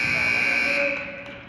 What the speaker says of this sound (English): the buzzer is just about to sound